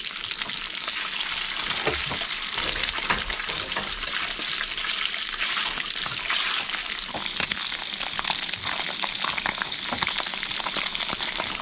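Sea bream sizzles and crackles loudly in a hot pan on a boat, a continuous frying hiss with occasional pops.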